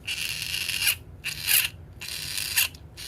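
A dirty secondhand Percy toy train with a weak motor whirs and buzzes with gear noise in three close, steady bursts separated by short silences.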